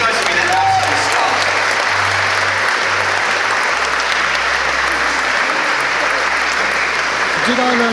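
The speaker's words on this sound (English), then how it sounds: "please give yourselves a round of applause" An audience at a Star Trek convention gives a loud, dense round of applause that keeps going steadily, with faint voices mixed into the clapping.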